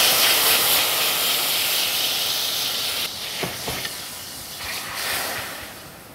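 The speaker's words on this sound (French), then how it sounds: "Et déglacer avec un peu de bouillon de légumes." A hot pan deglazed with vegetable stock while cooking guinea fowl gives off a loud, steady steaming hiss that holds strongly for about three seconds, then thins and eases into a softer, fluctuating sizzle with a few faint pops.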